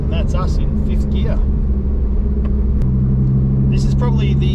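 Mitsubishi Evolution IV driving in fifth gear, with a steady, loud engine and road drone holding throughout and a low hum settling in partway, while a person talks over it.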